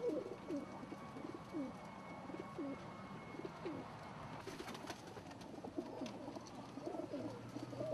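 Pigeons coo steadily inside a loft, their soft repeated low calls overlapping in a quiet, faintly hissing room, with a few scattered chirps and rustles.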